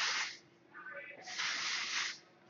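Hairspray hisses from a gold aerosol bottle in a hair salon, two close bursts of spray with a short pause between them, fairly quiet.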